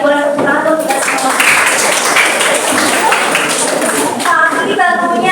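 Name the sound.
classroom applause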